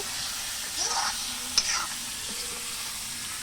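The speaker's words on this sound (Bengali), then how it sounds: "যে মাটনটা দিয়ে কিছুক্ষণ নাড়াচাড়া করবে।" Mutton frying in a spice masala, stirred in a pot over a wood fire, giving a soft continuous sizzle with a few scraping strokes and one sharp clink, fairly quiet and close.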